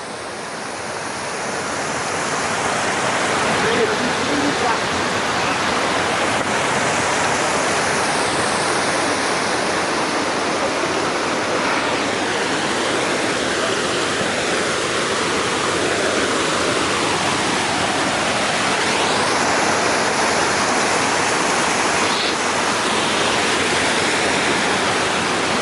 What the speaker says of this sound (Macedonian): За разлика од лани, Омнан има повеќе вода.